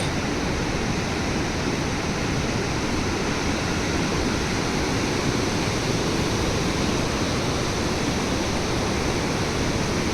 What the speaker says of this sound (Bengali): পাশে বইছে মধুগঙ্গা। আওয়াজ মেবি পাওয়া যাচ্ছে